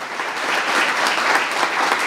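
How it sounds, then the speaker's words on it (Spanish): An audience at a municipal ceremony for a community eyeglass handover applauds warmly, with dense, steady clapping filling the room throughout. "Quiero que le brindemos un fuerte y cariñoso aplauso a nuestra primera autoridad comunal"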